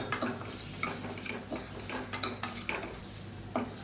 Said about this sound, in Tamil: இதில் மெஷரிங் கப்பில் ஒரு 1/2 கப் அளவுக்கு பாசிப்பருப்பு சேர்த்து நல்லா வறுத்துக்கலாம்.